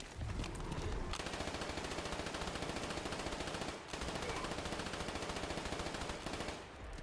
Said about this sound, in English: I have plenty of ammo for the PPSH. Am I just going to use it all?